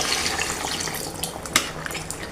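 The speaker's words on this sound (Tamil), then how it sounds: "எவ்வளோ தண்ணி தேவையோ அதை ஊற்றிக்கலாம்." Water pours steadily into a cooking pot, a continuous splashing hiss with a few brighter splashes, close and moderately loud.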